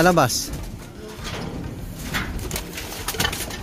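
Young racing pigeons in a breeder's loft coo and flutter nearby as someone talks over them, with soft scattered calls and wing rustles throughout.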